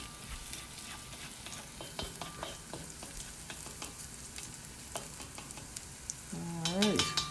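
Shrimp and Chinese sausage browning in a pan for fried rice, a steady sizzle broken by frequent scraping stirs, with a louder rising scrape toward the end.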